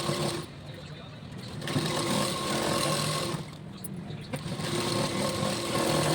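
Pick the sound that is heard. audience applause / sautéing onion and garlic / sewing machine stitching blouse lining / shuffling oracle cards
sewing machine stitching blouse lining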